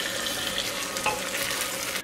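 Ginger garlic paste stirred into reddened onions frying in a pan for goat curry: a dense, continuous sizzle with the scrape of a spoon moving through it, close and steady, stopping abruptly at the end.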